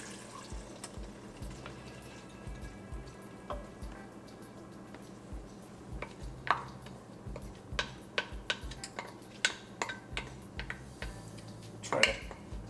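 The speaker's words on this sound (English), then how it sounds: "It's time to add the moong dal." Rinsed, soaked moong dal poured into an Instant Pot among sauteed vegetables for khichdi, with a steady soft pattering and scattered light clinks and knocks of a bowl against the metal pot in a quiet kitchen.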